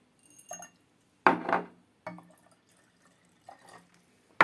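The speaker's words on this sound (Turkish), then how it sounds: "Şimdi sirkemizi döküyoruz." Vinegar poured onto corn kernels in a home experiment, heard as a few short separate splashes and drips, the loudest two coming near the start, with quiet gaps between them.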